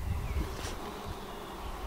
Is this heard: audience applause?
no